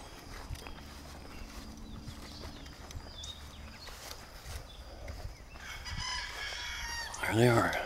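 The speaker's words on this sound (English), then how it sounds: "We got some chickens up here." Chickens in a rural backyard at early morning, faint scattered clucking over a low outdoor background, growing busier toward the end with a sharper, louder call at the close.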